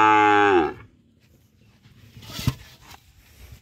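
A Holstein Friesian heifer on a farm lets out one loud, close moo at the start, followed by quiet rustling and faint shuffling sounds.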